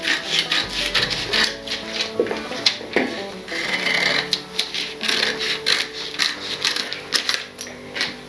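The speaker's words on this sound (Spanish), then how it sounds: "Ok, vamos a cortar el molde." A paper sewing pattern for a blouse is cut out by hand, heard as close, irregular scissor snips and papery rustling and rubbing, with brief pauses between cuts.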